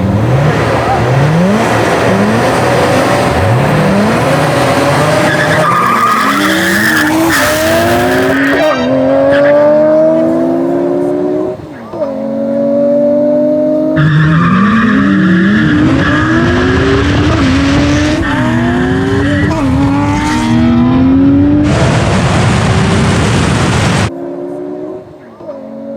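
A 1999 Nissan Skyline R34 GT-R drag races a 2023 Nissan Z Proto, loud close engines revving and climbing through repeated gear changes with rising and falling whines and some tire noise, people talking over the roar.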